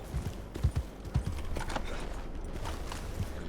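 Horse hooves clip-clop in Red Dead Redemption 2, a few heavy, irregular thuds landing close by over a steady game background, with a brief whinny-like texture and no voices.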